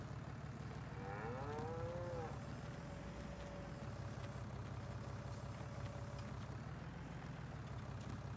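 Cattle mooing in the Farming Simulator 19 game, a few drawn-out lowing calls over a steady low engine-like hum from farm machinery, moderately loud and continuous.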